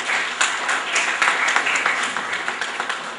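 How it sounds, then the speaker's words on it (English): Audience applause greets Dr. Jeevan, the head of education for Karnataka and UP, at a school event: a short, fairly loud burst of clapping with distinct individual claps throughout. "please give a round of applause to Dr."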